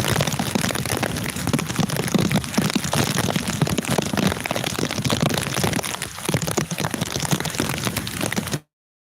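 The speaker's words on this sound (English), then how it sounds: "It's raining a hella ton out here." Heavy, steady rain pouring down close by, a dense continuous patter with no breaks and no voices.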